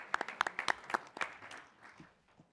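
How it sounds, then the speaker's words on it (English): Brief round of applause at a city council meeting for the Scouts: sparse, quiet claps from a small group in a chamber, fading after a couple of seconds. "Round of applause for the Scouts."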